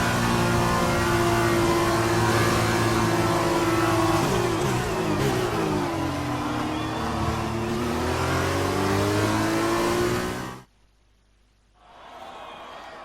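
An F2 race car in the F1 2020 video game, during a Round 1 feature race at Sakhir, produces a loud, high engine whine that revs and shifts through gears for about ten seconds, then cuts out sharply before a faint hum returns.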